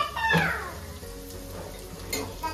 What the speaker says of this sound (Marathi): स्वतः कांदा बिंदा परतवून टाकतो